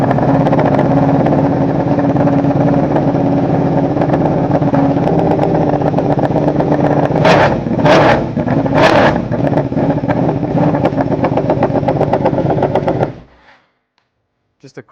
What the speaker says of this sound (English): Just a crazy sounding combination, the V2 with an Austin Racing exhaust from Brentune.